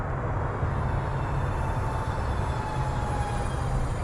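A Xfly SU-57 twin 40mm EDF RC jet at about half throttle gives a steady, continuous ducted-fan roar with a thin high whine, holding even throughout with no pauses.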